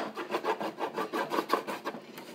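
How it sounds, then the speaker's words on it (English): A wax candle rubbed back and forth beneath an antique cantilevered wooden sewing box, giving a close, soft rasping scrape in quick repeated strokes, fairly quiet and alone. "I'm just going to rub the candle underneath it real quick."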